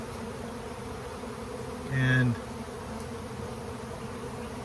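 Angry honeybees during a colony cutout, the comb cut out and boxed with the queen, buzz in a steady dense hum that swells briefly louder near the middle, with a single spoken word.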